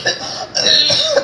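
A short, close throaty cough or two, loud and rasping, from a person in a bright reverberant space during a religious talk.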